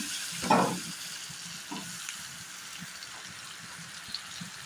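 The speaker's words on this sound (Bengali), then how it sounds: "এখন দেখো জল ছাড়িয়ে রাখা মাছটা দিয়ে দেবো" Drained small fish are dropped into a hot pan with a short loud burst of sizzle, then a steady soft frying hiss continues with faint occasional stirring clicks and no talking.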